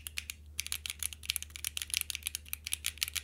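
Rapid typing on a custom-built mechanical keyboard fitted with Akko Cream Blue switches, a quick irregular run of crisp, close clacks and clicks heard alone, softly recorded, with one brief pause near the start.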